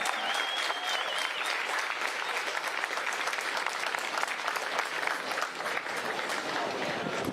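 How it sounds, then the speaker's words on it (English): Sustained applause from a crowd honoring runners at a Division II women's NCAA cross country championship, steady and dense clapping throughout, moderately distant, with no voices standing out. "Let's give all of our runners a nice round of applause."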